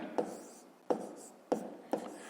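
A pen scratches across paper while numbers for a fifth-grade math sum are written down, four quick strokes spaced apart in a quiet room.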